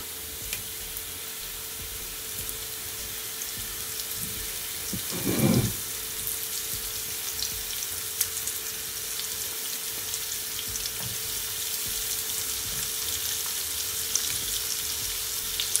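Shrimp sizzling in garlic butter in a pan, a loud, steady crackling fry that continues throughout, with one brief louder stir or clatter partway through.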